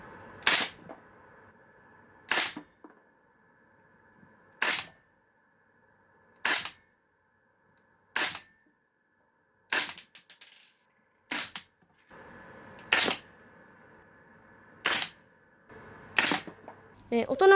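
An APFG MCX Rattler gas blowback airsoft rifle firing 0.2 g 6mm BBs, about ten sharp separate shots spaced roughly two seconds apart, close and loud against a quiet room with no talk.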